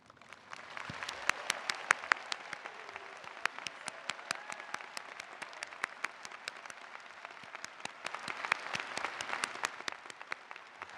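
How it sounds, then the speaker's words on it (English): Steady applause from a convocation audience at a college ceremony, many hands clapping densely and evenly for about eleven seconds, with no speech over it. "please stand so we may give you a round of applause"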